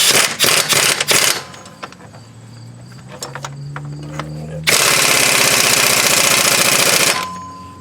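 An impact wrench on its lowest setting snugs a bolt during a timing chain job on a 1999 Grand Am 2.4L, giving one loud, sustained rattling burst of about two and a half seconds after some earlier clanking.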